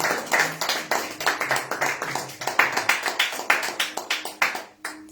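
A church congregation claps in a steady rhythm for about five seconds at moderate loudness. The beats are regular and fairly close, like clapping in time during worship, and the sound stops abruptly at the end.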